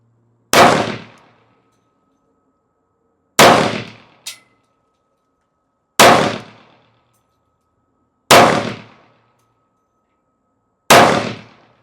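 A 10mm pistol firing Federal Premium 200-grain solid core rounds cracks out five loud, sharp shots at slow, even intervals, each trailing a short ringing echo, with a faint extra clink after the second.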